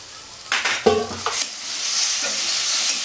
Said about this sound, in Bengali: এটা আমি জল দিয়ে গুলে নেব ময়দাটা